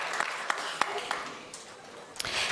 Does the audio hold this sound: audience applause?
yes